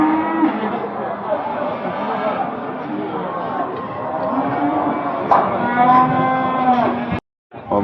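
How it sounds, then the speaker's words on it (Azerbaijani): Calves at a busy cattle market in Barda, Azerbaijan, low repeatedly and loudly at close range, their overlapping moos carrying over a steady crowd hubbub, before a brief sharp cut near the end. "Yəni əsl ət yığan danalardır,"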